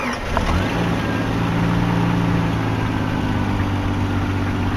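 Jeep Grand Cherokee ZJ engine catching after a long crank and settling into a steady, loud idle with a low rumbling drone that holds for several seconds.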